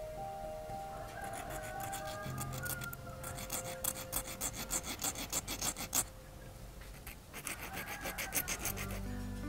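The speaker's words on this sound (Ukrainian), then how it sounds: "Зачистимо напилку." A hand file rasps over metal wire while making fishing lure and stringer hardware, a steady run of rhythmic scraping strokes, close and alone under faint background tones.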